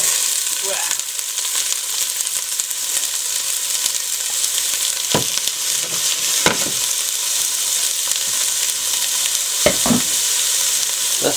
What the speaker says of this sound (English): 2 diced onions into the pan, perhaps just a touch